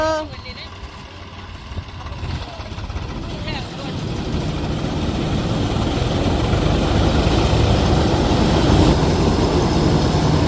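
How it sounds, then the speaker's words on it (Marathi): A tractor engine starts up for threshing millet and settles into a loud, steady rumble that builds and holds close by, with faint voices early on. "चला ट्रॅक्टर चालू झालं"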